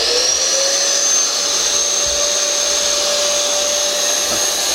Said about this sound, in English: I'll switch the pond vac on as if we was hoovering.